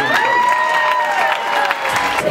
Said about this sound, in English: a big round of applause for Jim